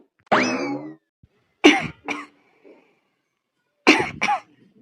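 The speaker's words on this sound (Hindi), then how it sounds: "अरे आज बड़ी खांसी आवती है" A voice lets out a drawn groan, then two rough coughs, a pause, and two more coughs, close and dry.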